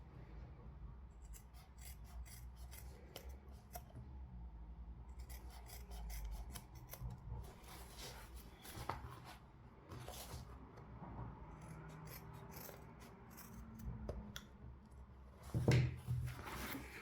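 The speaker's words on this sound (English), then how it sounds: "we're just going to trim back the seam allowances" Scissors trim seam allowances on cork fabric, giving soft rasping snips and rubbing handling noises at close range, quiet with intermittent bursts.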